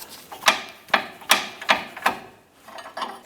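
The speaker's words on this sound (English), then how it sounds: "use our Pickle Fork here to go ahead and work that ball joint down and out" A pickle fork hammered to separate a ball joint on a 2008-2013 Nissan Rogue, a series of six or seven sharp metallic strikes in a steady rhythm, close and loud.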